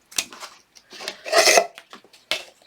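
Scissors snip through ribbon to cut the tail for a bow, making a few short, close, raspy cutting strokes with one longer rustling cut in the middle and no talk.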